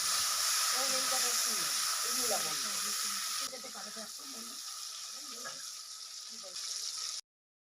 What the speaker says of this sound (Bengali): এখন এই টমেটোটাকে ভেজে নিতে হবে, এর কাঁচা গন্ধটা চলে যাওয়া অবধি।